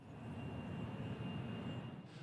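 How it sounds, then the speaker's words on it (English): An Air New Zealand Boeing 767 takes off from Nadi International Airport, heard as a steady, broad engine roar with a faint whine, distant and continuous throughout. "there was another sound, that of an Air New Zealand 767 taking off for New Zealand"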